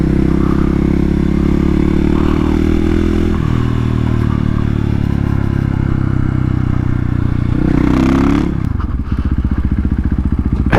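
A 450 supermoto motorcycle is ridden hard, its engine roaring steadily and loudly nearby. The revs shift near the end and give way to a sputtering, choppy exhaust note.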